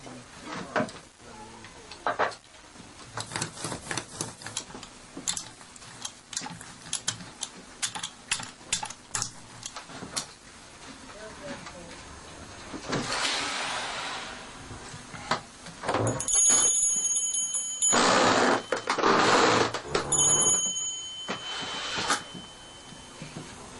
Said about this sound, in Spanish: descubrimos una imprenta exacta a la primera de Gutenberg y podemos ver imprimir exactamente igual que se hacía en aquellos tiempos